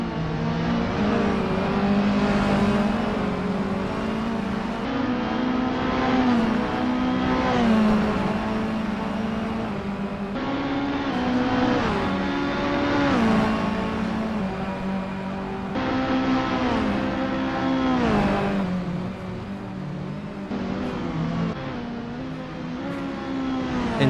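Mini Cooper JCW race cars lap Phillip Island in the Assetto Corsa racing game, engines droning and revving continuously. Repeated gear shifts cause the pitch to dip and climb again, with several cars layered together and no voices.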